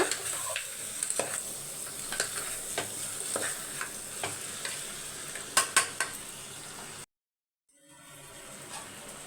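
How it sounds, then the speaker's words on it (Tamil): Curry is stirred in a pan after salt is added, with a soft steady sizzle and scattered spoon scrapes and taps against the pan, cutting abruptly to silence before a faint hiss returns. "உப்பு சேர்த்து நல்லா மிக்ஸ் பண்ணி விட்டுக்கோங்க"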